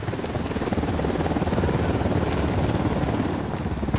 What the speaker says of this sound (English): Watch out. Helicopter incoming.